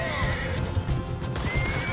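A horse in Red Dead Redemption 2 whinnies loudly over steady galloping hoofbeats, the neigh stretching across most of the two seconds with no talking.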